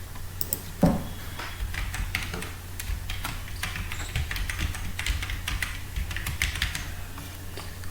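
Password being typed on a computer keyboard, a close run of quick, irregular key clicks with a few louder taps, over a soft steady background hum.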